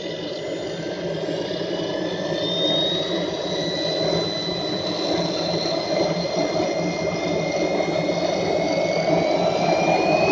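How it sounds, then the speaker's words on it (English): A Swiwin model turbine jet engine spools up in a smooth start, a loud continuous roar with whining tones rising in pitch, steady and close throughout with no voices. "The engine will start up very smooth and less fire, but will take more time"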